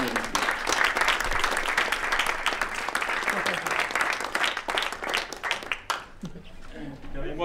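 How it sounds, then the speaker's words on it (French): A theatre audience at the Rond-Point humour prize ceremony gives dense, steady applause that stays strong for several seconds and then thins out near the end. "Et je vous demande, chers amis, de l'applaudir parce que c'est amplement mérité."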